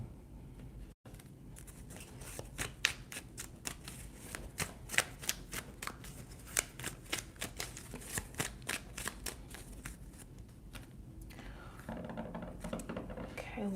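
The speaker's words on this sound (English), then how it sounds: "Make sure all my decks are shuffled before more people join in here." Tarot card decks are shuffled by hand in a long run of crisp, rapid riffling flutters and slaps, close and fairly quiet, with a voice talking faintly underneath.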